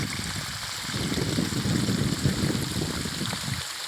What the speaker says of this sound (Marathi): अशा प्रकारे सध्या सोलार पाणी मारत आहे